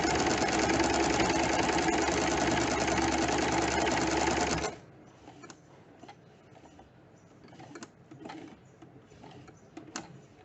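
A sewing machine runs fast and loud for a few seconds while stitching the sleeve placket of a men's kurta, then stops abruptly, leaving quiet handling noises and faint clicks.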